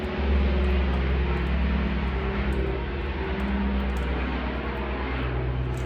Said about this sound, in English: that's the Mars water bomber going overhead